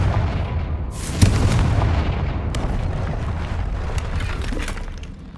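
A Confringo fire-blast spell explodes in the Hogwarts Legacy video game: a sharp booming blast with shattering debris, followed by a rumbling tail and scattered smaller crackles and impacts.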